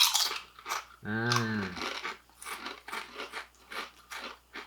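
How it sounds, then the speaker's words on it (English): Potato chips being bitten and chewed up close, a run of rhythmic crunches following a brief voiced sound, loud and dry. "That is a delightful crunch."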